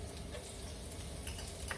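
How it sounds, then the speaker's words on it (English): A steady, bright sizzle of chopped garlic frying in hot oil, close and continuous with small crackles throughout. "You're gonna add in your 3 chopped garlic cloves. A nice little sizzle."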